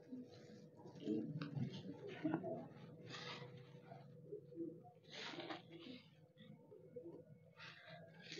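Pigeons at a rooftop loft coo in low, soft bursts close by, with scattered bird calls and a few people talking in the background.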